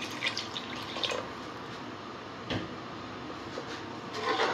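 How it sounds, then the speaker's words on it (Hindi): Half a glass of water poured into a cooking pot of Punjabi dum aloo gravy, a steady splashing trickle under kitchen background noise, moderately quiet and close. "अब मैं 1/2 गिलास इसके अंदर और डालूंगी क्योंकि मुझे ये कम लग रहा है।"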